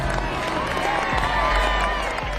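Crowd gathered outside a hangar for the unveiling of the B-2 stealth bomber, a dense murmur with scattered clapping and cheering, steady and moderately loud under a voice.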